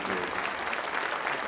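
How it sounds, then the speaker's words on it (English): A big round of applause from an audience at a council celebration for board members and volunteers, dense continuous clapping sustained evenly from start to end. "can you please give a big, big round of applause to all the board members,"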